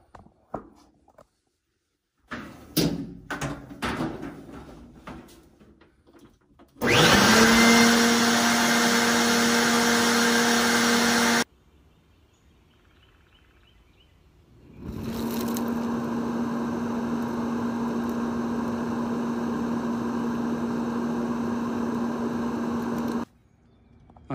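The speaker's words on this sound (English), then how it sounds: "I have the dryer holding the blower in place for me. It's already on" A loud steady blower in a dryer vent drones with a constant hum, cuts off, then starts again and runs for several seconds before stopping, after some clunking handling noises.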